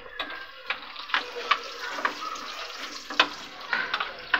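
Spices being mixed into yogurt for restaurant-style chicken biryani: a steady series of close, soft scraping and stirring strokes against the bowl, repeating about every half second with no talk.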